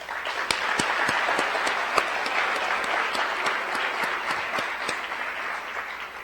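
Audience applause greeting school board members, dignitaries and two candidates at a school district superintendent finalist forum, a steady dense wash of clapping from a large indoor crowd, sustained at even loudness throughout with no talk.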